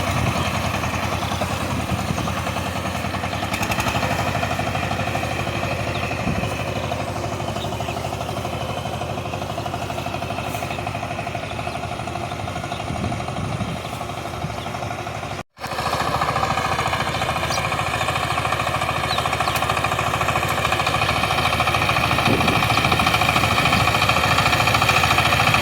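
A power tiller engine chugs steadily while cultivating a village field, a continuous rattling drone that cuts out for an instant midway and resumes at the same even, busy pace.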